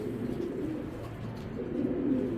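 A female racing pigeon coos softly and steadily at close range, a low continuous murmur with no other sounds.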